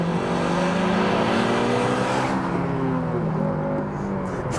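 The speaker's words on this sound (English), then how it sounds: "Now next up, we want to experience that VTEC" Honda Civic Type R FN2 engine revs up close into VTEC, its tone climbing steadily and loudly before dropping away and fading toward the end.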